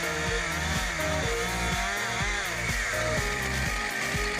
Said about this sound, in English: When it gets to my chain, the 20-inch mark, I'll pull that handle down and I'll run the saw.